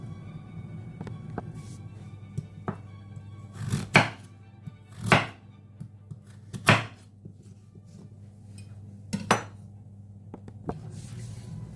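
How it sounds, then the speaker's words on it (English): A knife chops carrots on a board in a home kitchen, giving several sharp, close thuds spaced irregularly, with quieter taps and light kitchen clatter between them. "Going to be cutting up our carrots"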